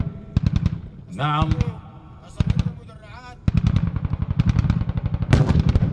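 Rapid bursts of heavy 37 mm anti-aircraft cannon fire in battle come in rhythmic volleys, loud and close, broken by shouted voices between the strings of shots.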